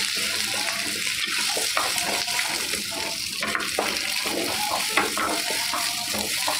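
Ground chana dal paste is stirred into a simmering gravy, making continuous wet squelching, bubbling and scraping in an uneven, rhythmic churn.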